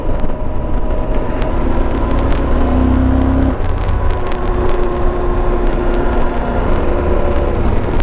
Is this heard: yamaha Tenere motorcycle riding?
yes